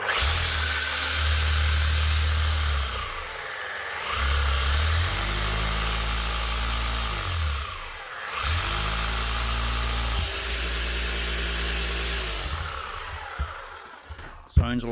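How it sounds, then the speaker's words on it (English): An old Ryobi ED450 power tool, repaired with two new bearings, runs in loud sustained bursts with a steady motor whine, briefly dipping around the middle before spinning back up, with a short knock at the end. "One old Ryobi ED450, hopefully up and running again, with just 2 new bearings, or at least sounding a lot better."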